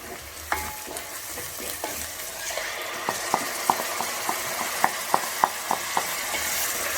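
A paste of tomato, coriander leaves and cashew fries in a pan with a soft constant sizzle, broken by sharp, regular scrapes and clicks as a spoon stirs it.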